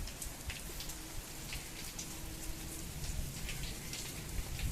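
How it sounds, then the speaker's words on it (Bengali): Steady rain falls outdoors, a dense, even patter of drops on surfaces that continues without a break, fairly close and moderately loud, with no voices over it. "বৃষ্টি পড়ছে"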